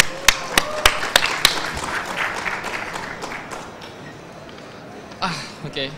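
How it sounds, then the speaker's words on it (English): Audience applause at a tech startup conference session in Jakarta, opening with sharp individual claps that swell into a broad wash of clapping, then fading out before a few scattered claps near the end. "let's give him a round of applause"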